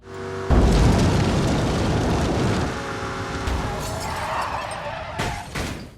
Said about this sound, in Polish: Zamiast przyzwoitości w Dangerous Driving doświadczamy wypadku samochodowego na środku drogi